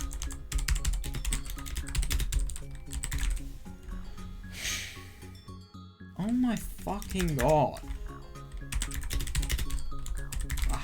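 Rapid clattering keystrokes on a computer keyboard come in bursts, with a voice speaking over the middle section between the typing runs.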